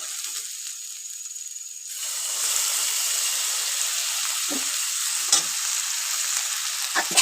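Onion, ginger and garlic sizzle in a pan over a gas flame, a close, steady hissing fry that swells after a couple of seconds, with occasional stirring scrapes and no talking.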